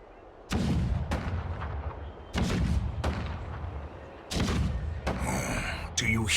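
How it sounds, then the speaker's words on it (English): Heavy cannon booms in the Honkai Star Rail video game, several loud, deep blasts at irregular intervals, each with a long rumbling tail, under in-game noise. "The rumble of the cannons."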